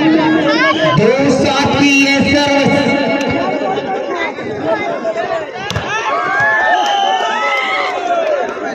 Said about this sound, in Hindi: जोरदार ताली सहरिया के लिए